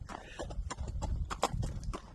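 Hooves of a horse walking at a relaxed pace on a trail ride, crisp close clip-clops in an uneven rhythm about two or three per second over soft ground noise.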